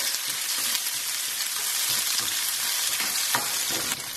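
Fresh garlic and green chilies fry in a pan, a steady loud sizzle running throughout with a few sharper crackles near the end, no voices.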